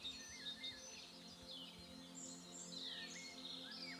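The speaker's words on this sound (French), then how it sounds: "Un oiseau au-dessus de l'arbre chante sa joie." A bird sings above a tree on a summer morning: a series of bright chirps and whistled phrases, some rising and falling, over a faint low hum, fairly distant and soft.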